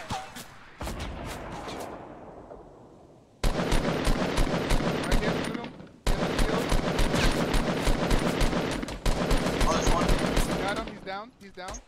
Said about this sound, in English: I'm gonna shoot a rocket right there